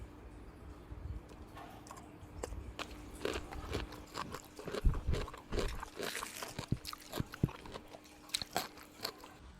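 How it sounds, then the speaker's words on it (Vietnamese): Someone bites into crunchy pickled cauliflower, giving a run of close, crisp crunches and chewing bursts in an irregular rhythm, with no talk. "Anh chị mình có thể nghe cái tiếng giòn á, giòn rụm luôn, nghe đã tai ghê chưa?"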